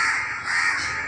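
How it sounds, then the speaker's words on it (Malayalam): A loud, harsh crow caw rings out close by, one drawn-out call filling the whole moment with no talk. "ഇന്ന് നമ്മുടെ കാക്ക മക്കൾ"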